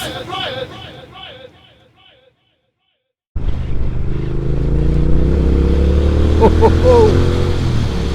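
A Triumph Speed Twin motorcycle on new Michelin Road 6 tyres rides along with a loud, steady engine drone and wind rush, following a stretch of speech and a brief silence.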